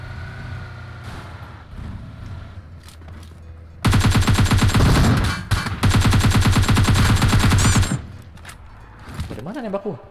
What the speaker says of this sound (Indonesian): Dari mana nembak gua?